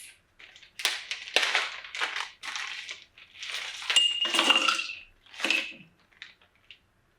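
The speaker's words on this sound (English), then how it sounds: "Add in our crushed ice." Crushed ice tumbling from a scoop into a glass or shaker for a cocktail, heard as several bursts of bright clinking and crunching, fairly close, with no speech over it.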